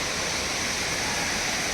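Steady, broadband rush of Tirathgarh waterfall near Jagdalpur in Bastar, water pouring continuously down the falls, a dense even roar with no speech over it.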